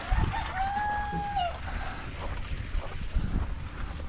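Roosters and chickens at a backyard coop during morning chores, with one long crow rising and falling in the distance over steady wind and outdoor rumble.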